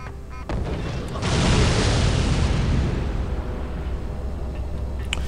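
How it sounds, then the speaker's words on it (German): A big explosion in the video game Aliens versus Predator 2 erupts after a short pause, its heavy roaring rumble swelling loudly and then slowly fading while staying dense and noisy. "Ja, es hat Bumm gemacht."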